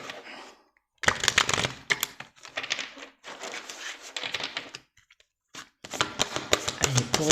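Tarot cards are shuffled and drawn in close, crisp bursts of riffling and slapping, separated by short silent pauses.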